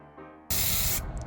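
A spray can hisses in one loud, sharp burst lasting about half a second while paint goes onto a Sweeney Todd cosplay blade, preceded by a faint tonal hum.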